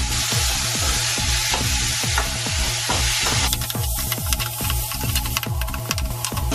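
Tomatoes sizzling in a frying pan as they are stirred, a loud close crackle with a rhythmic scraping of the spoon repeating steadily throughout and no talk.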